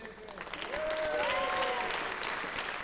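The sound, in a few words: audience applause for choir coordinator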